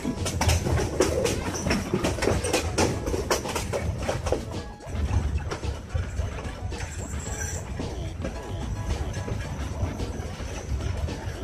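A moving passenger train heading toward Shaistaganj railway station, heard from on board: loud continuous rumble with rhythmic clickety-clack of wheels on rail joints and metallic rattling, steady for the whole stretch.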